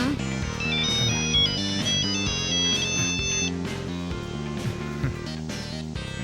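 A mobile phone rings with a melodic electronic ringtone, a repeating tune of bright tones over a steady beat, loud and continuous throughout.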